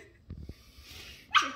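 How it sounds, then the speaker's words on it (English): A couple of short, soft yips and barks from a grey puppy, followed by a brief higher yelp, with quiet room noise between. "The first one speaks."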